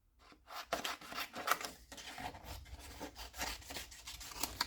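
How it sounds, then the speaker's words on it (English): Scissors snip a small piece of paper for a handmade card, giving close, quiet crisp cutting and rustling strokes in an irregular rhythm. "So we're just going to cut a little piece"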